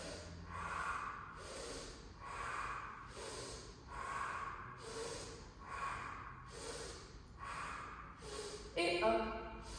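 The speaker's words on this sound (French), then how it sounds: "Inspire vers l'avant, expire arrière." Yoga breathing with deep rhythmic inhales and forceful exhales through the nose, repeating in regular cycles about every second and a half, close and breathy, ending with a sharper snorting breath.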